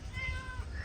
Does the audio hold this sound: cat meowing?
yes